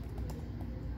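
Someone types on a computer keyboard during a Windows XP setup, a few soft key taps sounding briefly over a steady low background hum.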